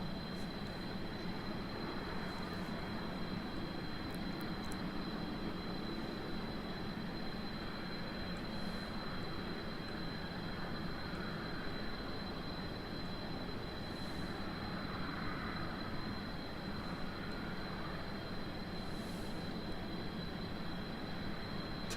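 Rocket engines burn in Kerbal Space Program as a steady, dense roaring rumble with a constant high whine, unchanging throughout with no speech.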